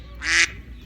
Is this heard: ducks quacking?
yes